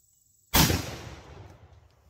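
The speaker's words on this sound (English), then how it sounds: "I'm just going to take a shot at the paint." One loud, close gunshot fired at paint on a canvas breaks a quiet stretch, with a sharp crack followed by a long decaying rumble.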